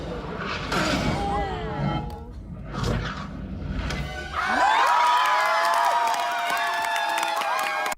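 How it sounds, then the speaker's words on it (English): A large cinema audience at an Avengers film erupts into loud, sustained cheering and shouting as Captain America lifts Thor's hammer, swelling suddenly after murmuring and scattered noise and holding at full volume. "the loudest cheer from a crowd I've ever heard"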